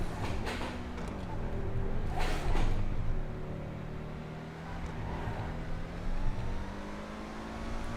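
A Schlagen GT sports car in GTA 5 accelerates with a rising engine tone that climbs through gear changes, loud and close, with brief bursts of rushing noise along the way.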